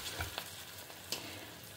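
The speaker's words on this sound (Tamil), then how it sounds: "இப்போ என்னென்னா இதெல்லாம் பொரியட்டும்" Asafoetida and curry leaves frying in hot oil for a Tamil home-style kuzhambu, a soft steady sizzle with a few faint crackles and pops, close and quiet, no talking.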